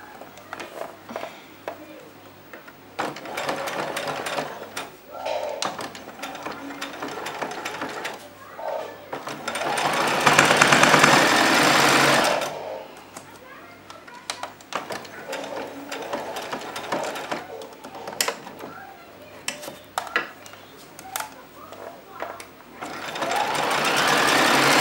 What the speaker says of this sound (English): take this back onto your machine, and the width of the arm on the machine is actually going to pull that out a bit and make that part there flat so that you can sew a straight stitch